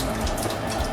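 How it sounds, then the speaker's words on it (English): Tap water runs steadily into a kitchen sink while a child splashes and plays in it, a loud, continuous close-up rush with no speech. "my daughter's playing with the water in the sink"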